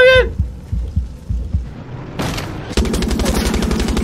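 Gunfire from a tank in the Far Cry 6 video game: a few dull low thumps, then a loud roaring blast followed by sustained rapid-fire cracks, close and continuous until the end.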